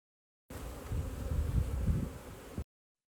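Honeybees buzzing around a hive, a dense, steady low drone of many wings that swells and dips slightly, fairly close and continuous for about two seconds with no talk.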